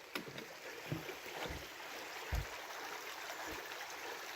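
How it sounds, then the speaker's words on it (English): Small mountain stream flowing past a footbridge on a trail, a steady broadband wash of running water with a few soft low knocks and splashes, fairly close and continuous. "Here's a pretty cool little stream and footbridge."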